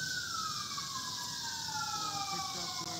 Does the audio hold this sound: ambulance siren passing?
yes